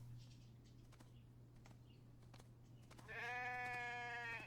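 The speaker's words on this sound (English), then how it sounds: "Hey there, sheep." A sheep bleats in the video game The Infected, one clear, loud, wavering bleat that rises suddenly out of a quiet game ambience with a steady low hum and a few faint clicks.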